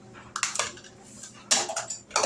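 Candied nut ingredients dumped into a bowl, a few bursts of clattering and rattling against the bowl, close and fairly quiet, with pauses between them.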